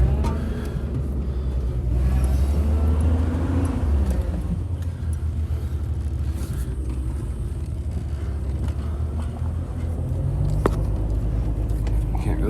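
A car drives down a shoveled, snowy street on a cold winter day, making a continuous low rumble of engine and tyres at close range throughout.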